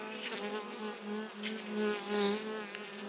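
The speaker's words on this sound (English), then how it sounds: "There goes bees out there" Bees buzzing steadily during beekeeping work as a queen is caged, a continuous droning hum with gentle swells in loudness, close by and without speech.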